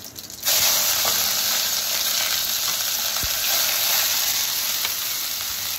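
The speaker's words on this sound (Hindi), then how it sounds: "सबसे पहले इसमें अब डालेंगे हम थोड़ा सा ज़ीरा, और इसके बाद हमने इसमें चॉप किया हुआ प्याज," Cumin, chopped onion, garlic and ginger hit hot oil in a pan for bottle gourd kofta, setting off a loud, steady sizzle that holds for several seconds, close up and with no voice.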